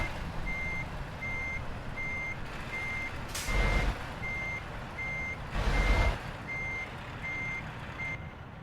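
A truck's reversing alarm beeps in a steady, even series while the vehicle backs a trailer into a blindside parking spot in Euro Truck Simulator 2, with two short bursts of air-brake hiss breaking in.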